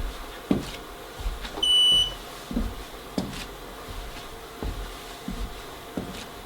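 An exercise machine gives one short electronic beep, a clear tone lasting under half a second, amid soft, irregular thumps and knocks from someone stepping.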